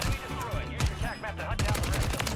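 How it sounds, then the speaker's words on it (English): Rapid gunfire from Call of Duty Warzone on Rebirth Island crackles in dense bursts with a hidden Glock, loud and close, mixed with busy game effects. "I'm out here shooting at dead bodies"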